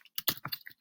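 Quick typing on a computer keyboard, a short burst of five or six light key clicks in close succession, near and quiet, with no talking.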